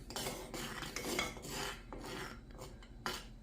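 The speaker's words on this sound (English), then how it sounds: "Right now I'm going to give it a little stir." A spoon scraping and rasping around a pot of barbecue sauce just taken off a rolling boil, repeated rough stirring strokes close up with faint clinks, no voices.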